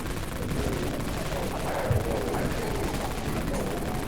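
Machine gun fire in the Dead Frontier video game's Deep Wastelands, a continuous rapid rattle of automatic shots held steady throughout, dense and even in level with no pauses.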